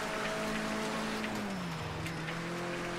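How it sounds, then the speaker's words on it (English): Heavy rain from the Project Cars racing video game pours as a dense, steady hiss, with a car engine droning and dipping in pitch underneath; no voices. "It doesn't rain like this on the fucking French coast"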